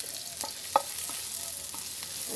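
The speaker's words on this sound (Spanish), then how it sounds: "Me raspa la cacerola." A spoon stirring and scraping a pot of eggs and onion over a faint frying sizzle, a few sharp metallic scrapes and taps spaced apart, close and moderately loud.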